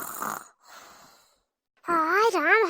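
An elderly woman snoring in a rural home, two breathy rasping snores followed by a louder, voiced wavering snort, close and clear with no other voices.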